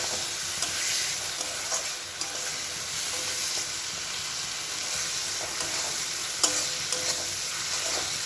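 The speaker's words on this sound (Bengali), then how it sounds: "এবার ভালো করে আমি মশলাটা কষাতে থাকবো।" Ground spices for ghugni fry in oil in a pan and are stirred repeatedly, a constant close sizzle punctuated by sharp scrapes and taps of the spatula.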